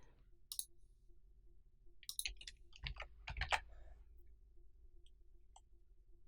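Several sharp mouse clicks on a computer login screen, some single and some in quick pairs, close and crisp against a quiet background.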